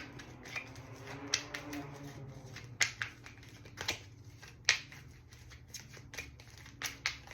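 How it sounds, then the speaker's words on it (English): Quiet playing cards being shuffled, with soft irregular clicks and riffling snaps scattered over several seconds. "Let me shuffle it up real good, Scorpio."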